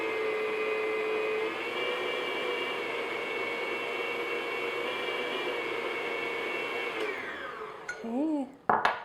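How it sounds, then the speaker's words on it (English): An electric mixer whirring at high speed through cheesecake batter for a carrot cheesecake, a loud steady drone that shifts pitch briefly before stopping, followed by a few clanks at the end. "Then turn your mixer speed up just to get it"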